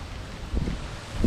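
Strong wind by the Dnipro river buffets the microphone in low rumbling gusts, with a couple of louder swells and faint rustling, no speech.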